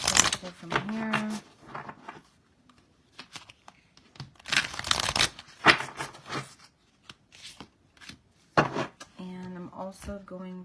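Lucy Cavendish Fairy Blessing oracle cards being shuffled and pulled, bursts of riffling, papery slaps and crinkles that come and go, close to the microphone, with a voice speaking in between.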